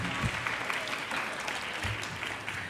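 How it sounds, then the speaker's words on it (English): A seated audience applauds panelists after a discussion on race, producing a steady patter of clapping from a moderately distant crowd, fairly soft overall, with a few louder claps standing out. "let's give another round of applause to our panelists"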